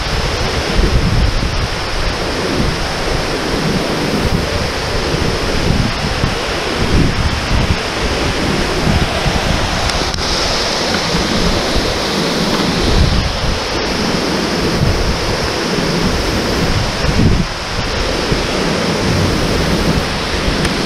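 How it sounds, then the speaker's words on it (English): Rainbow Falls pours in a loud, continuous rush close by, with wind gusts buffeting the microphone and no voices. "It's pretty awesome getting misted on here in the waterfall."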